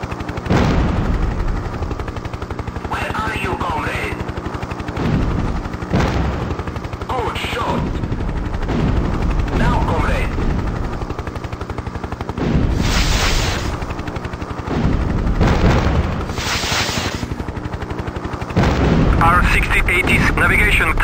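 Hind attack helicopter in a 1996 combat flight game firing 80 mm rockets and its turret gun, with repeated loud bursts and booms over a constant rotor and engine drone, alongside synthetic cockpit voice callouts.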